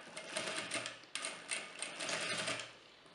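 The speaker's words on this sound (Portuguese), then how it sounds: "E aqui a gente vai costurar." Sewing machine stitching fabric for a homemade Christmas tree skirt, a steady close whirring run with brief pauses and restarts, no talking.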